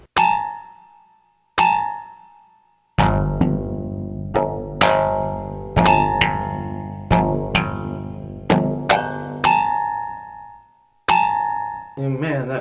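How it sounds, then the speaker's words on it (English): Bell strokes from the Spitfire Audio Estática sample library, unprocessed: sharp struck tones with long ringing decays, a few isolated hits followed by a denser cluster of overlapping strikes, clear and close with no talking. "Let's do bell strokes."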